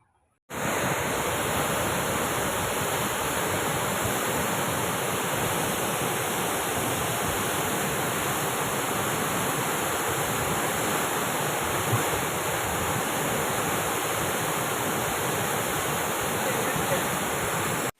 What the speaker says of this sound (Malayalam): ചുരുങ്ങിയ സമയത്തിനുള്ളിൽ വിള്ളൽ വലുതായി വെള്ളം ശക്തമായി പുറത്തേക്ക് പ്രവഹിക്കുകയായിരുന്നു